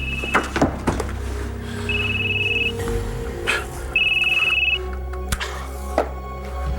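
A telephone rings indoors in two separated electronic trills, mixed with thumps and shuffling movement nearby and no talk.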